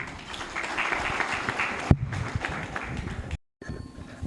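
Audience applause at a political science conference closing a teaching marathon, a sustained dense clapping that stops abruptly, then a brief silence and faint room noise.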